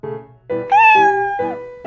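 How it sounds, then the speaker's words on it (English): A cat meows several times in a row, clear and close, with rising and falling tonal calls and short pauses between them, no talking over it. "That's a cute cat."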